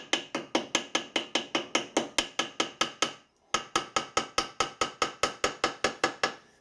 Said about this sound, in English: use the bone end of the hammer